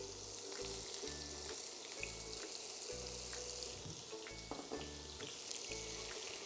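Chopped onion fries in melted butter in a pan, a faint steady sizzle heard quietly and alone.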